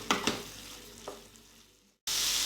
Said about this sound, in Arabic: وكنحركو كنخليهم حتى كيطيبو ونشفو